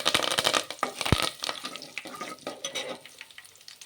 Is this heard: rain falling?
no